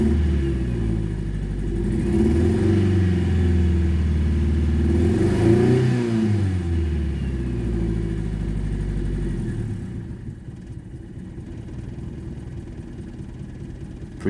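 A 1985 Toyota MR2 AW11 engine runs after startup, revving up and down through a couple of swells before dropping back to a quieter, steady idle, close and with no talk.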